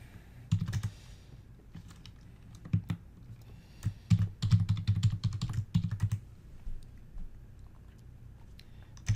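Typing a password on a computer keyboard: close, crisp key clicks in short irregular bursts and clusters, with quiet gaps between the runs of keystrokes.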